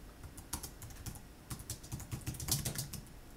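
Rapid clattering keystrokes on a computer keyboard, irregular bursts of clicks with no talking.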